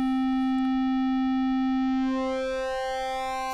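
Waldorf Iridium wavetable oscillator with its spectrum shifted, giving a bright, buzzy, sync-like harmonic tone that holds steady and then slides as the spectrum compresses, played alone and loud.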